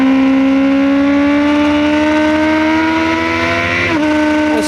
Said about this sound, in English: our camera here on board Ron's bike gives a feel for what it's like to charge round Donington Park at over 150 miles an hour